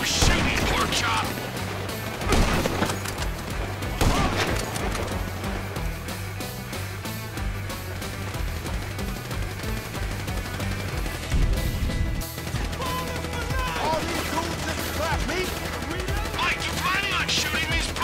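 Gunfire in Grand Theft Auto V, a dense fusillade of rapid shots and crashes running throughout, loud and continuous, layered with game music and voices talking.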